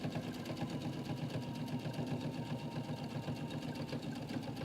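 A sewing machine stitches fabric in a steady, continuous mechanical hum with a rapid rhythmic chatter, close and even throughout with no voices.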